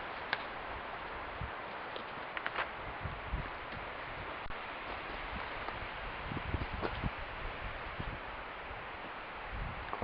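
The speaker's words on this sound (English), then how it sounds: "You can hear the wind coming up the valley, swooping through the trees of the forest" Gusty wind sweeping up a valley and through forest trees at a ranch, a steady broad rush with leaves rustling and brief louder gusts throughout, no voices.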